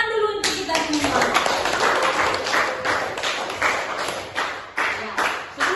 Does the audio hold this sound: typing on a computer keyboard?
no